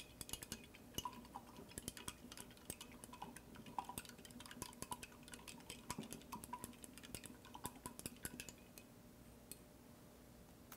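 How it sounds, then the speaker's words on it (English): A paintbrush being rinsed in a water jar, with faint, quick clinks and taps of the brush against glass and soft swishing repeating steadily, close and quiet. "I'm gonna go ahead and rinse my brush now"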